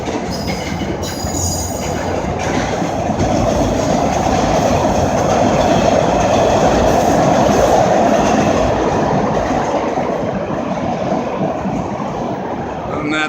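A train runs along the rails with a continuous loud rumble, rhythmic clickety-clack and occasional squealing wheels, heard from close by on board.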